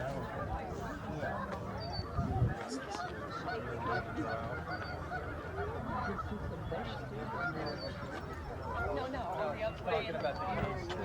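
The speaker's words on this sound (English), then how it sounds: "Do you see the geese up?" A large flock of geese honks constantly at a wildlife management area during the March spring migration, a dense overlapping chorus near and far, with people talking underneath.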